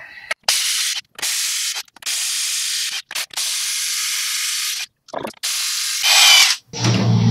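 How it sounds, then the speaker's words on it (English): A new impact wrench zips lug nuts off the front wheel of a 2014 Ford Explorer, loud close hissing bursts of rattling torque repeating with short pauses between nuts and no talk. "today I've got a new impact wrench that I'm trying out, so we're gonna give it a shot."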